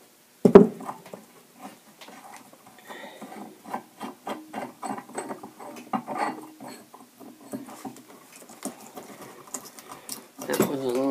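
Metal stems are unscrewed from a bathtub faucet, giving a series of small irregular squeaks and ticks that come in short bursts, with a louder knock at the start.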